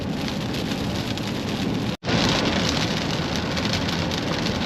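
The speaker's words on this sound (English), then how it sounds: "It's still raining. It's been raining for about 30 minutes now." Heavy rain pours steadily in stormy hurricane weather, a dense, constant hiss and patter that stays loud throughout, broken only by a split-second dropout near the middle.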